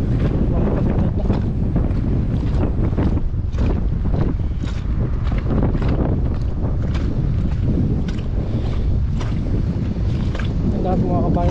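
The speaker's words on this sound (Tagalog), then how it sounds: "Malakas na po yung hangin." Strong wind roars and buffets the microphone over open water, a steady, loud rush with sea noise that never lets up.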